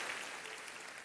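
A church congregation claps during an Indonesian worship service. The applause is soft and continuous, heard at a distance with no talking.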